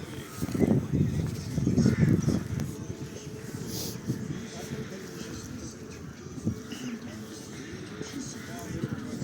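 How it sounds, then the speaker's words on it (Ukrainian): Crows caw at a distance while a person talks over them, with faint outdoor background noise. "Ворони летять на сонний час."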